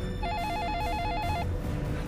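A telephone rings in a film scene, a steady warbling electronic ring that repeats rapidly for about a second and then stops, heard close and clear over a low rumbling background.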